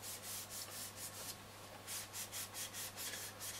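A disposable cloth rubs finish onto the wooden case of a Roberts R701 radio in quiet, rhythmic back-and-forth swishes. About a dozen soft strokes come close up and faint, with no talk.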